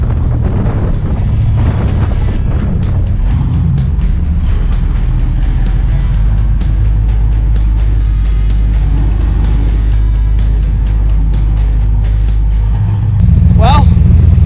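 A vehicle drives along long dusty trail roads on the Lost Boys Trail in Chile, a loud continuous low rumble of engine and tyres with scattered rattles and knocks, rising toward the end.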